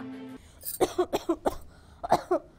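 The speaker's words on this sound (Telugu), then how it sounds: "నాకు బాగా దగ్గత్తాంది" A man coughs hard in a quick run of about six harsh, close bursts, with a brief pause before the last couple.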